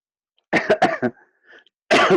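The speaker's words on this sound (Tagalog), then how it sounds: "Paumanin po inuubo pa po ako." A person's coughing during a Sunday school Bible reading: a quick run of three or four harsh coughs, a brief quiet gap with faint sound, then another loud cough burst, close and clear with no talking.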